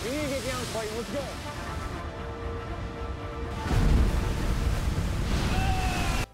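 Big ocean waves slam against a crab fishing boat amid roaring wind, a constant loud wash of water that swells into a heavier crash partway through, with voices shouting over it early on.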